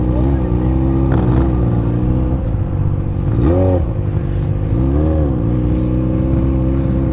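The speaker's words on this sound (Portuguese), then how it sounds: "Dando um borboletado no acelerador da XJ" Yamaha XJ motorcycle engine revved with repeated throttle blips, a steady loud idle rising into two or three swelling pitch sweeps, close up on a street with ambient noise.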